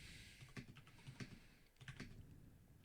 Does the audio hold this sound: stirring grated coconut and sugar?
no